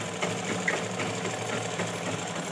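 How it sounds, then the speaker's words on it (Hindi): A sewing machine stitching the lining of a blouse, running continuously with a fast, steady mechanical whir and needle chatter, close and even throughout with no pauses or talking. "तो आप देख सकते हो मैं कहाँ पे सिलाई ले रही हूँ, अस्तर के ऊपर ले रही हूँ"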